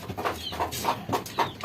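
A chicken with snot, a respiratory illness causing watery, swollen eyes, clucks in a coop: about six short, evenly spaced clucks at moderate loudness, with no talking.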